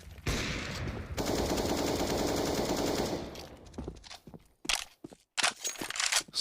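Sustained automatic gunfire rattles for about three seconds in a CS:GO match on the Cache map, followed by scattered single shots and footsteps, with almost no talk over it.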